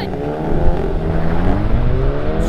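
A VW Golf Clubsport with ESC switched off revs hard as its wheels spin, a loud, steady engine roar with rising harmonic tones and tyre scrabble, close and continuous throughout.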